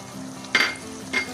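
Eggs with green chilli, green onion and coriander fry gently in a pan for aloo anday ka salan. A steady soft sizzle is broken by two brief scraping strokes of a spoon.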